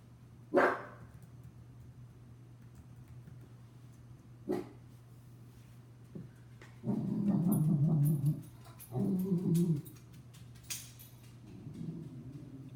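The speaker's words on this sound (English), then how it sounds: "Is that your dog in the back?" A dog barks a few times, with separate sharp barks followed by drawn-out whimpers and whines, heard at moderate distance over a faint steady hum with no talking.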